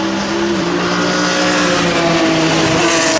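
Race cars, a Porsche among them, roar past during a 2012 Britcar race at the Brands Hatch GP circuit. Engine notes drone loudly and shift in pitch before cutting off abruptly at the end.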